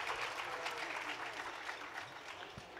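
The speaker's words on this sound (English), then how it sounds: "So another round of applause for B over here today." An audience at a literary talk on fiction applauds the author Bee, a soft, steady spread of clapping heard at a moderate distance and lasting throughout.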